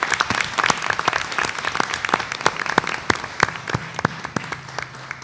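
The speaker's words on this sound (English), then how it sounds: "Let's give them a round of applause" Audience applause for school guidance counselors at a school board program, crisp individual claps ringing out in a lively, uneven patter from a modest crowd, close and clear with no talking.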